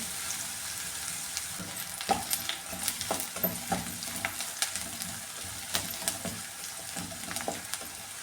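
Sliced onion sautéing in a pan for a tomato curd curry, a quiet, even frying hiss with regular scraping stirs and light clinks of a spoon throughout, close and without speech.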